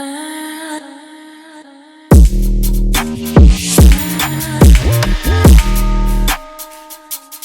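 A chopped vocal sample plays over a pounding beat, with loud bass hits and short stuttering vocal phrases, preceded by a soft melodic intro.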